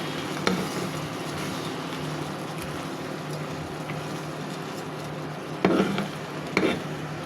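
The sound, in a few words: stirring shrimp masala in a pan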